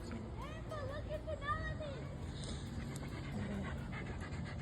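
A dog pants quietly in quick, rhythmic breaths, partly under people chatting nearby.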